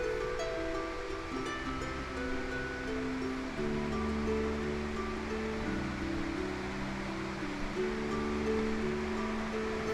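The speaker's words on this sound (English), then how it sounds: "listening to nature and the flowing waters of the River Dochart" Steady broadband rush of the River Dochart flowing near Killin, Scotland, a continuous close wash of moving water with no talking, filling the whole stretch at an even level.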